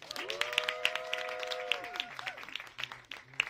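A live podcast recording audience applauds a guest with brisk, scattered hand claps at moderate distance, heard under a sustained electronic tone and a low background murmur.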